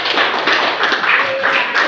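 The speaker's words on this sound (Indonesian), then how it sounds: "Ya, tepuk tangan dulu semuanya" A classroom of students clapping at the teacher's request, brisk, close-sounding claps in an uneven patter, with a brief faint voice tone in the middle.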